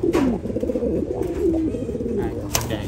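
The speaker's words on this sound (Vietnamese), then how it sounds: "đây là con chim bồ câu con nhé" A pigeon coos in a low, repeated, throaty warble close to the microphone, several rolling calls in a row indoors where young pigeons are kept, with a brief sharp knock near the end.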